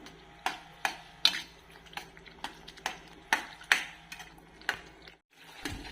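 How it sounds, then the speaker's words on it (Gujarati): Spoon stirring boiled vegetables into a spicy pav bhaji mixture in a pan, giving a series of light clicks and scrapes against the metal, close by and fairly quiet. "હવે આપણે આને સારી રીતે મિક્સ કરી લેશું."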